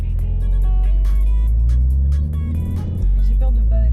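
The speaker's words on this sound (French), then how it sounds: "t'as démarré la voiture de 480 chevaux" A 480-horsepower car engine rumbles loud and close and revs continuously, with a brief dip before climbing again, while people talk over it.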